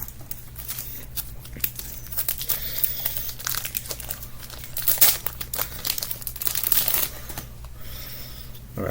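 Yu-Gi-Oh card pack wrappers are torn open nearby in a run of crisp crinkling and ripping bursts, irregular and close, rising to a louder rip midway.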